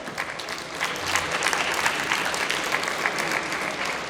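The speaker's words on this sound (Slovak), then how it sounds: "ještě jednou velký potlesk." An audience at a university project presentation applauds steadily for about four seconds, a dense, even clapping from a moderately sized crowd with no voices over it.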